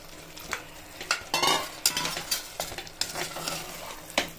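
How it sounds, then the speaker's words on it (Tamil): Mutton is stirred into fried masala in a pan for Muslim-style biryani, with a soft sizzle under repeated scraping and clattering spatula strokes against the metal, irregular, close and moderately loud, with no voices. "ஆமாம், அதோட நல்லா கிளறி விட்டுட்டு"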